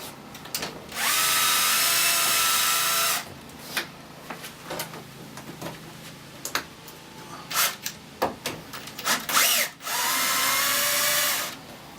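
A power drill whirs in two sustained bursts while backing screws out of a caravan's interior wall panel and batten, with short clicks and handling knocks between the runs.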